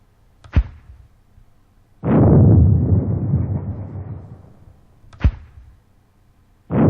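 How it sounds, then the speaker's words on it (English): 50mm mortar HE rounds firing and landing in a war video game: sharp, short thumps a few seconds apart, plus a heavy booming blast with a long rumbling tail, no talk. "next 50mm mortar HE"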